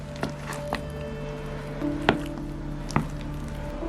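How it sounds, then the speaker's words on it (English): Banana fritter batter being mixed in a bowl, with a handful of soft, wet knocks and squishy taps at irregular intervals over a steady low background hum. "All we have to do now is mix."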